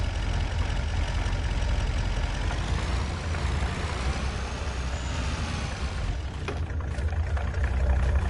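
A heavy pickup truck engine idles in the video game Farming Simulator 25, a steady low rumble throughout, a brief hiss near the end, no talking.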